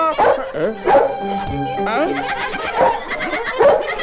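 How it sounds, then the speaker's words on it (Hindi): Dog barking in a Hindi dubbed film scene, sharp repeated yaps and bow-wows in rhythmic bursts close by, mixed with speech and music. "कौन है भाई, कुत्ते की तरह भौंक रहे हो?"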